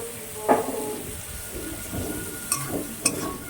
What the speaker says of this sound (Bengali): চিংড়ি মাছটাকে এবার ভালো করে লাল লাল করে ভেজে নিতে হবে